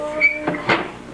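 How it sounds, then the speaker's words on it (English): A door swung shut indoors during a child's sign-language lesson, heard as two quick nearby thuds in close succession with a faint tone lingering before them, no talking over it. "Shut the door."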